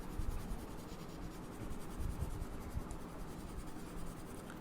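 A coloured pencil shades a drawing with a light skin tone, a steady, close, quiet scratching that goes on without pause.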